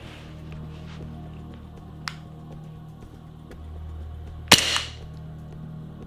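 A B&W Glock 17 airsoft pistol fires a single sharp, fairly loud shot at a target, with a faint tick a couple of seconds earlier, over a quiet background hum.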